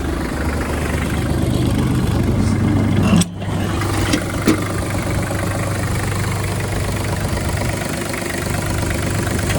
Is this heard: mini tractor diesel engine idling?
yes